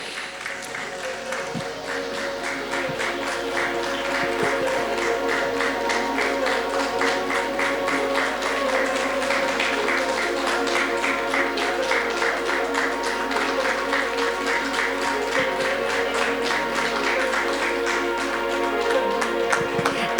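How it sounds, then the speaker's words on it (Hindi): An audience at an award ceremony keeps up a steady, dense applause for about twenty seconds, a full room of clapping hands with some voices faintly mixed in. "जोरदार तालियों के साथ everybody all together"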